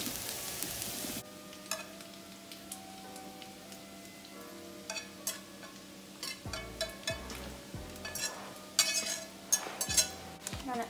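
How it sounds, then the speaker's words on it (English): Eggs, hash browns and grits cook on a stovetop, with a constant frying sizzle under clinks and scrapes of utensils stirring the pans, close and busy throughout. "as you guys can see, my eggs are cooking. Got my hash browns. And I got my grits over here cooking up"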